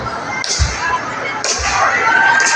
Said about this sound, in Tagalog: Pwede ba kayong pumalakpak na parang ganito?